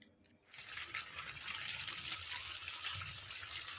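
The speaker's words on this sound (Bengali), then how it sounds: "এবার আমি অল্প করে একটু জল দেব" Water pours steadily from close by into a simmering fish curry, a continuous splashing gush that starts after a short pause and keeps going at a soft, even level.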